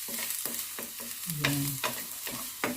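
Garlic sizzling in hot oil in a pan while being stirred, with repeated scraping strokes of a spoon or spatula in an irregular rhythm, close and clear, and one brief spoken word.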